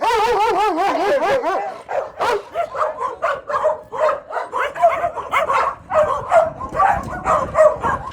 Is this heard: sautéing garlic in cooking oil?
no